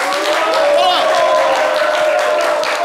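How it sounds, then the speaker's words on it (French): An audience applauds a young volunteer at a live show, with steady, dense clapping mixed with cheering voices and chatter throughout. "On peut l'applaudir très fort."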